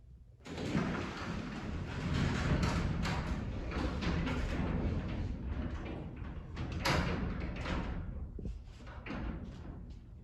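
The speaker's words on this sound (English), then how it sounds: "we will move our door up so that the carriage goes towards the middle section of the rail" A Genie screw-drive garage door is pushed up along its rail, giving a continuous rumbling slide with scattered thumps and rattles, steady and fairly close for most of the stretch.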